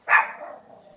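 A single loud, close bark from a Rottweiler, sharp at the start and trailing off quickly.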